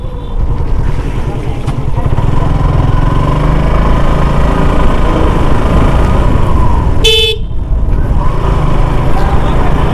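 Motorcycle engine droning loudly and steadily while ridden on a road in the rain between Kuakata and Pirojpur, with wind and road noise, a brief horn blast, and a voice speaking over it.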